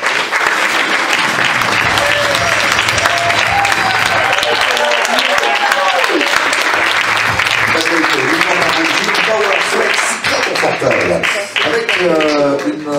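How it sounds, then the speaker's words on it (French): Audience at a fashion show in a clothing store claps and cheers as a model arrives, with sustained applause heard under an announcer's continuous voice over music. "Applaudissements pour Patrick"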